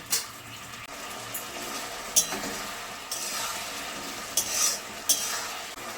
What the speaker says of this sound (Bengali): সয়া সস দিয়ে দিচ্ছি। এইভাবে 5 মিনিট আমি ফুটিয়ে নেব।